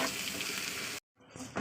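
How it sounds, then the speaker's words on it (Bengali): Spices and meat sauté in hot oil with a close, steady broadband sizzle that cuts out abruptly partway through, then resumes faintly for a moment. "এই তেলে ভালো করে আমি কষিয়ে নেব।"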